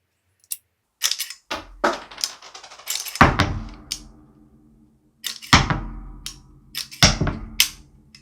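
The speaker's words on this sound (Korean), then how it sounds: "로딩 게이트를 열고 이 이젝터를 눌러서 한 발씩 빼주는 겁니다" Cartridges are ejected one at a time from a Denix replica revolver, each making a sharp metallic click or clack close by, with pauses between them and some brief rattling, and no voices.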